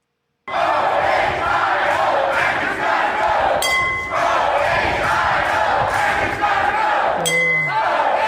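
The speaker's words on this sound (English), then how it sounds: "let's go and see the protest. And there it is right there." Protest crowd at a lockdown demonstration chanting and shouting continuously, a loud dense roar close by, with brief clinks and a short honk-like tone near the end.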